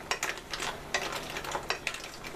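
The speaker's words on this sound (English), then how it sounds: "stir them and then add the parsley" Steamed clams in white wine stirred in a pot, a spoon scraping and clams clinking in a quick repeated rhythm of soft bursts, close and moderately loud, with no talk.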